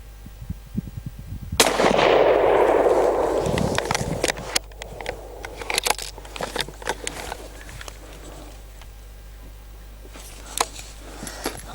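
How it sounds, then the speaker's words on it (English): A single loud rifle shot from an Anschutz Model 1770 in .223 fired at a can roughly 115 to 120 metres away, a sharp crack with a long rolling echo, followed by faint handling clicks and rustling. "Okay, lucky last shot."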